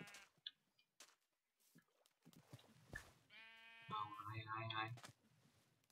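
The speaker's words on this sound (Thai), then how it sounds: "แกะมาเร็วมาทางนี้อ้าวแกะดำไม่มาแกะแกะขาวมาเร็ว" Sheep bleat repeatedly in the Minecraft video game, loud drawn-out calls in the second half, with someone talking and calling to them earlier in the clip.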